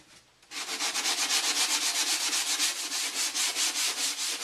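Rhythmic rubbing strokes of a sanding sponge on dried wood filler on a foam tombstone prop, a brisk, even back-and-forth scratching that continues close up with no talking.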